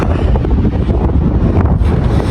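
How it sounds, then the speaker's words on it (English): Strong wind at the Carrick-a-Rede rope bridge in Antrim, Northern Ireland, roars and buffets the microphone in loud, constant gusts, with nothing else audible. "It is very windy."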